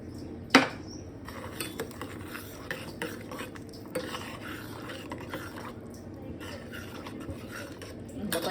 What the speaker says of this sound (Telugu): ఇప్పుడు రవ్వ పోసుకుంటూ కలపాలండి.